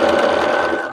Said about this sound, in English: I am not zigzagging. I am straight stitching this.